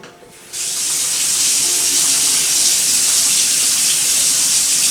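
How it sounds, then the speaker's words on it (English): Hands are washed under a running kitchen tap; after a brief quiet moment the water bursts on and then pours in a steady, close, loud hiss with no talking. "First, we need to wash our hands."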